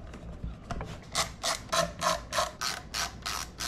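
Cover screws being driven back into a Yaesu FT-891 radio, heard as a rhythmic series of close, crisp ratcheting clicks from a screwdriver, about eight regular turns.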